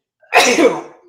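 A single sharp, close sneeze bursts out loudly and trails off within a second.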